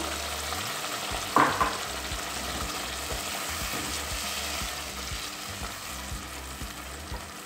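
Cooked tomatoes mixed with tomato sauce and sugar hit a hot pan with a brief louder burst, then settle into a steady close sizzle with light stirring and no voices.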